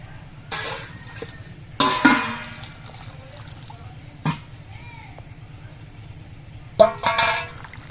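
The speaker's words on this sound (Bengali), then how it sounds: "সবজিগুলো সব কেটে নেওয়া হয়ে গেছে এবার জল দিয়ে ভালো করে ধুয়ে নিতে হবে" Water splashes and pours over chopped vegetables and thankuni leaves in a home kitchen, in several separate bursts of rinsing over a steady low hum, with quieter trickling between them.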